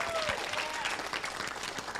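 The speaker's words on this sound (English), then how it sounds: "A round of applause." Applause from an audience at a primary school quiz, a dense, even patter of many hands clapping at moderate volume, with a brief voice at the start.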